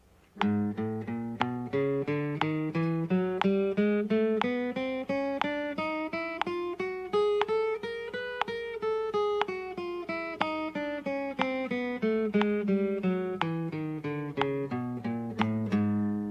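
Guitar plays steady runs of plucked notes, three to each beat, over a faint regular click, continuous and moderately loud for the whole stretch.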